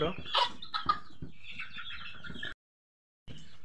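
Chickens cluck and chatter close by, the flock noise cutting out briefly before resuming; a faint voice may mingle in.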